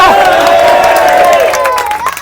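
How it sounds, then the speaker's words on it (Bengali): A group cheers and claps loudly at a celebration with cakes marking a channel's 500,000 subscribers, with high shouting voices riding over the crowd noise before it eases off at the end. "এটার জন্য একটা হাততালি হয়ে যায়"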